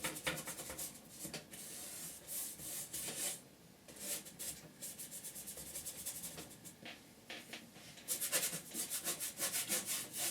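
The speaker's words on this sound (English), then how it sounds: "Scrubbing away." Oil paint being scrubbed onto canvas with a paintbrush for a still life of a glass of blue water, a steady, quiet rubbing of bristles in bursts of strokes with brief pauses.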